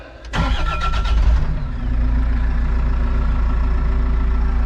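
A heavy diesel excavator engine, primed and still a little cold, cranks briefly, catches with a loud roar, then settles into a steady low rumbling idle close by.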